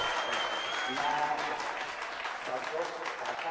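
An auditorium crowd claps in a loud, sustained roar of applause, many hands blending into a continuous wash, with some faint voices and tonal sounds mixed underneath.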